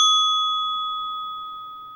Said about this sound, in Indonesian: Suara bel.